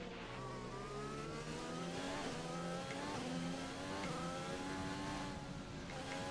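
F1 2020 video game Formula 1 car engine on the formation lap, a high, buzzing engine tone rising and falling through repeated gear shifts and revs, steady and fairly quiet with no talk.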